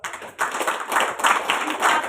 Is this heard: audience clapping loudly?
yes